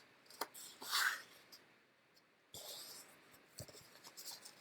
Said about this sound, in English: We're going to take these 2 bottom corners to the top 2 corners and fold it in half.